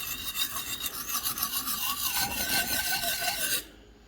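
Knife blade scraped in repeated strokes across a sharpening surface, a loud rasping rhythm of back-and-forth grinding that stops abruptly just before the end.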